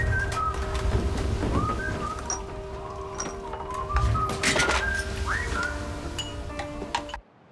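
A whistled tune from a record plays over the radio, bright sliding whistled notes over a busy background that cuts off abruptly at the end.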